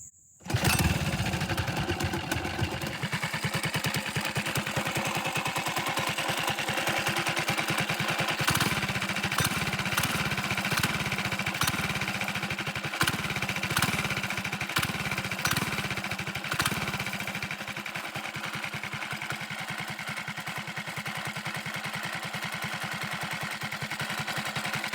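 A Coleman CT100U mini bike engine idles with its idle set very low, a steady loud mechanical chug running unbroken throughout, with occasional sharp ticks and the beat easing off slightly toward the end.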